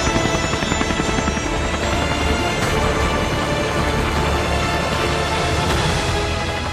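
A helicopter flies high over London, its loud, steady rotor chop and turbine roar filling the whole stretch without letting up.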